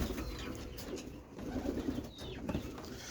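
Roller pigeon cockbirds coo softly in a loft at night, low murmuring calls mixed with faint wing flutters and rustling, fairly quiet and close.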